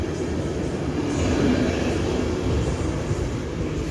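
Polish EU44 Husarz electric locomotive pulling the IC/EC Wawel express from Przemyśl to Berlin, with an old Z2B coach at the rear, rolling away in a steady, loud low rumble of wheels and train noise throughout.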